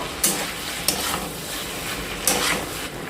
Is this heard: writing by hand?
no